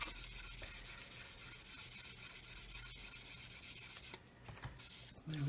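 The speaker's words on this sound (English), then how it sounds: "we're sanding away over the gloss and it's turning the areas we touched dull" Fine sandpaper rubs steadily over gloss paint on a plastic Roden C-141B Starlifter model kit, a close, continuous rasping scratch that drops away briefly near the end.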